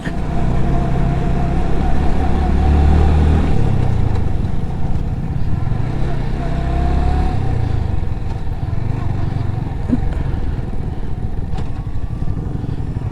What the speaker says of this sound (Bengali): পাহাড়ের উপরে বাইক নিয়ে যাচ্ছি।